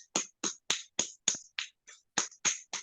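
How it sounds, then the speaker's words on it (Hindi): Open palm patted with a closed fist during an acupressure routine: about ten crisp, evenly spaced slaps in a steady rhythm, close and fairly loud, with no voices. "मुट्ठी बंद करके पूरी हथेली को थपथपा दें"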